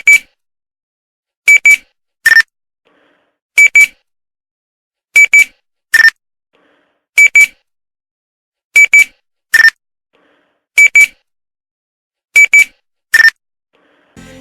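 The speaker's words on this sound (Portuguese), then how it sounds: "Quem lembra dos Nextel que fazia aquele barulhinho chato," Nextel push-to-talk cell phone chirps ring out alone, a loud, high electronic beep repeated in tight groups of two or three with short pauses between, about a dozen in all.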